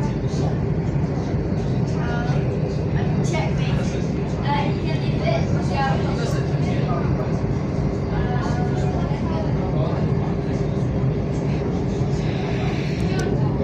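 A Thameslink Class 700 electric train rolling over a viaduct, heard from inside as a steady rumbling roar of wheels and motors with faint squeaks and rattles, continuous throughout.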